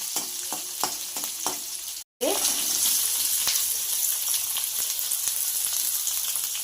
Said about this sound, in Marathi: परतून घेते जरा मिरची.